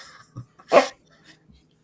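A pet dog named Elway gives a single short, husky cough-like huff close by, with a couple of faint snuffs around it in an otherwise quiet room.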